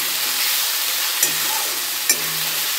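Spices with red chilli powder fry for a chicken curry, giving a steady, loud sizzle with two brief scraping knocks of a spoon stirring the pan.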